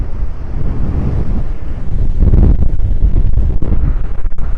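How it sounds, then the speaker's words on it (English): A strong hurricane wind gust roars across Vanderbilt Beach in North Naples, Florida, during Hurricane Helene, a loud, dense rumbling buffet against the microphone that swells midway and holds, with surf noise mixed in and no voices. "That was a strong gust."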